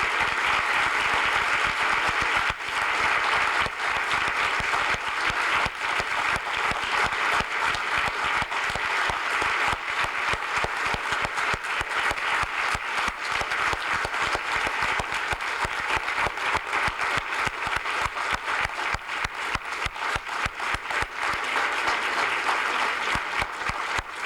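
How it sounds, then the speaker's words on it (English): Sustained audience applause at a conference on international investment in Afghanistan, a dense, loud wash of clapping that holds steady for over twenty seconds, with individual claps standing out toward the end. "I think this applause has said everything,"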